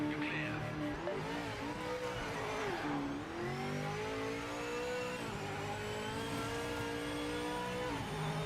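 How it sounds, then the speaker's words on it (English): A race car's V8 engine in a racing video game revs continuously for several seconds, rising and falling in pitch as it accelerates and shifts, loud and clear with no talk over it. "Sounds like a V8 in Gran Turismo 3."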